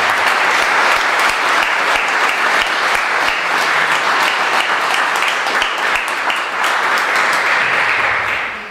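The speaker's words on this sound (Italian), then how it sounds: "vi chiedo io questa volta un applauso" A dense, steady wash of audience applause fills a hall at a rural valley farming gathering, many hands clapping loudly and continuously for several seconds before easing slightly near the end.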